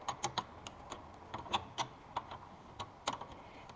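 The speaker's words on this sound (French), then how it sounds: "On va donc resserrer légèrement l'écrou," Ratcheting clicks from a 17 mm wrench tightening a nut on an AL-KO trailer brake, a close, fairly quiet run of sharp ticks in an uneven rhythm with no talking.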